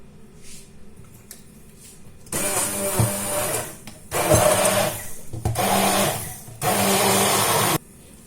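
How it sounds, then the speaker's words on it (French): Blender whirring in several loud bursts as it purees strawberries with cold water, each run lasting about a second with short gaps, and the motor's pitch shifting as the fruit breaks down, up close with no talking. "Je vais mettre mes autres fraises dedans et je vais les mixer."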